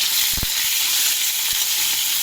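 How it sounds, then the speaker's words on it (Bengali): Prawns tossed into hot oil with black cumin seeds give a steady, close hissing sizzle throughout, with a few brief clicks and spatters early on and no talk. "এরপর আমি চিংড়ি মাছগুলো দিয়ে দেওয়া হলো"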